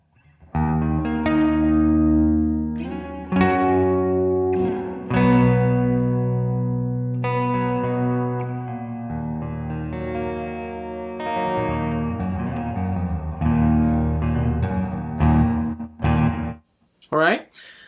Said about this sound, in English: we're gonna increase that reverb a little bit more